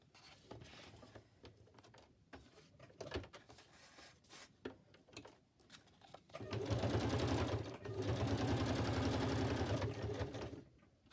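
A sewing machine stitches through paper journal ephemera in a steady, loud mechanical whir that starts partway in and runs for several seconds, preceded by quieter handling sounds.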